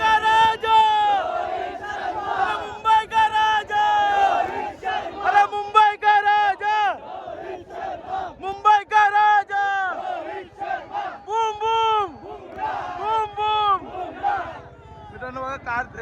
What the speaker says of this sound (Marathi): इकडे गर्दी बघा मित्रांनो भरपूर गर्दी आली